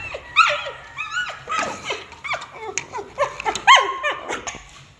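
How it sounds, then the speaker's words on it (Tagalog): Several dogs bark in short, excited bursts outdoors, a fairly close, busy chorus of overlapping yaps and barks with brief whimpery notes, continuing throughout without talk. "Nangangadian lang po yung mga aso sa labas."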